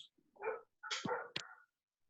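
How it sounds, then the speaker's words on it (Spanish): A dog barks in the background during an online class, a few short barks and yips in quick succession, fairly faint and alone, with a brief pause between. "Tiene el perro ladrando."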